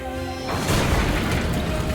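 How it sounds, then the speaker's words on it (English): Explosions in the Fate/Stay Night Remastered video game as a hall collapses, a broad rumbling blast swelling after a short lead-in and sustaining loud to the end. "The hall collapses even further, rocked by explosions."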